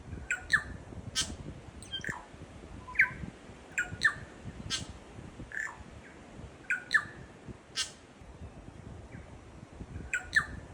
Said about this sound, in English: I must say the bird song here is incredible.